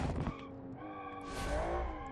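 A sports car racing in a BeamNG time trial, its engine holding a steady sustained whine that rises in pitch toward the end, with a brief rougher burst at the start.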